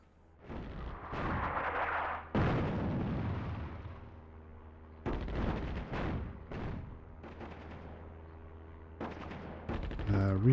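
Artillery firing in the real-time strategy game Attack at Dawn: North Africa, heavy booming blasts and rumbling bursts rolling through the clip, loud and repeated, with game sounds layered over them and someone talking underneath.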